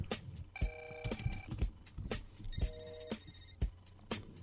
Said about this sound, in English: All right, it says it's ringing.